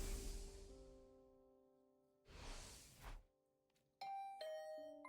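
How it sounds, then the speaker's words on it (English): A two-tone doorbell chime in The Hundred Line Last Defense Academy video game rings clearly near the end, after earlier soft whooshing bursts and a low sustained tone. "Was that my doorbell?"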